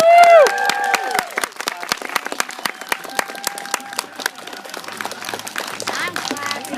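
Street-show crowd applauding and cheering, with a loud whoop at the start followed by scattered clapping and a few shouts and voices through the rest.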